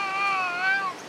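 A cat meows while being fed on a street in Jakarta, a single drawn-out, wavering call heard up close with no other sounds over it.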